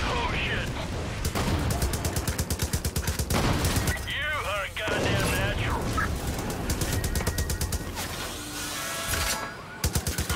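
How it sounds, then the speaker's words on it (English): Saw blades fired from a launcher into woods in the Far Cry New Dawn video game, a loud dense run of rapid repeated mechanical shots with whirring metallic sweeps and game noise under continuous talk. "I'm shooting saw blades into the woods at this point."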